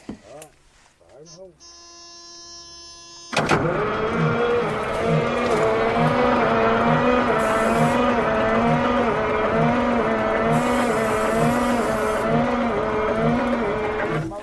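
A Freightliner semi truck engine cranks after a few mechanical clicks, then the starter churns in a slow, labored rhythm under a continuous loud grind, with people talking nearby.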